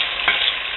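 Tomato sizzles in a frying pan, a steady broadband hiss with a brief swell of stirring or movement partway through, close and fairly loud, no voices.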